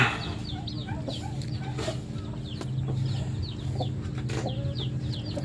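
A brooding hen clucks softly and steadily close by while newly hatched chicks peep in a continuous chorus of thin chirps, a busy farmyard brood with no talk.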